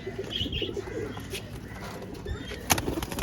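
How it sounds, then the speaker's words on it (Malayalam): Soft pigeon coos come over a low outdoor background, with occasional faint chirps and a brief flutter. "ഇതാണ് ഇപ്പോൾ നമ്മൾ പെട്ട പ്രാവ്"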